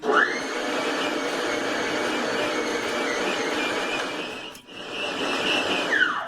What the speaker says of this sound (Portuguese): A batedeira dá uns trancos assim, parece que vai pular da mesa.